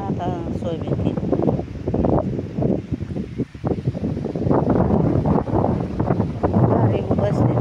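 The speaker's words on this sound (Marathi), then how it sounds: "पण मोकार वारं सुटलं." Strong gusty wind buffets the microphone across an open crop field of maize and soybean during pesticide spraying, a loud continuous rumble and rustle that rises and dips, with voices talking underneath.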